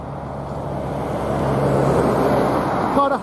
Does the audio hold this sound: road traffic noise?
yes